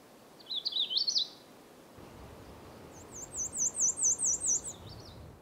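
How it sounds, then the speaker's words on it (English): A red crossbill calls in short bursts of bright, warbling chirps, one quick phrase near the start and a longer repeated run later, fairly close against a soft outdoor hiss. "Red crossbill."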